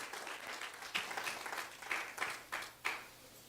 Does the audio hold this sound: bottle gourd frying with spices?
no